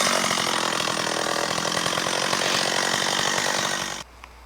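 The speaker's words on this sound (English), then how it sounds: "So we're going to chainsaw and we're going to start bucking it." A Stihl 034 AV chainsaw runs at full throttle, bucking a fallen tree near a cabin. The loud, steady cutting roar lasts about four seconds, then drops abruptly to a quiet idle.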